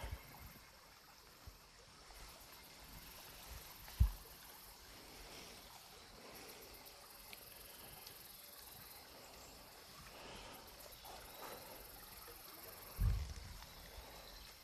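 Faint, steady trickle of Springbrook Creek flowing outdoors in Carver-Roehl Park, with a couple of brief thumps breaking the continuous low wash.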